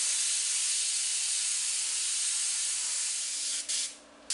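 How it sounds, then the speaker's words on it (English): Airbrush spraying blue paint through an inline air valve onto chrome emblems, a steady loud airy hiss that runs continuously before briefly cutting and dropping near the end. "I'm just going to lightly spray it across the top."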